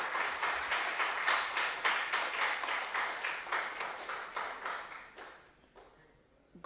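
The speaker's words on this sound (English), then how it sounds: "Let's give them a round of applause." An audience at a school science and maths quiz contest claps in a sustained burst of applause that gradually fades out near the end, fairly loud and without speech.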